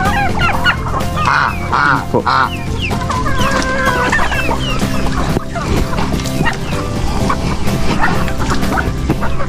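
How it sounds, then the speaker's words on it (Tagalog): Chickens and turkeys clucking close by with a dog barking among them, a busy barnyard chorus with ducks and geese kept there; a person briefly speaks over the birds. "Mayroong pabo, pato, manok, gansa."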